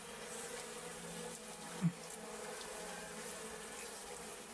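A faint, steady bee buzz hums throughout, with one brief louder pass midway.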